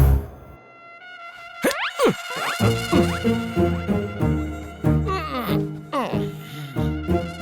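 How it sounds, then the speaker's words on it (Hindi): A mosquito infected with encephalitis virus buzzes at midnight. The whine slides up and down in pitch in repeated close passes, mixed with dramatic film music and a voice speaking over it. "आधी रात को एन्सेफेलाइटिस वायरस से इन्फेक्टेड मच्छर ने उसे काट लिया।"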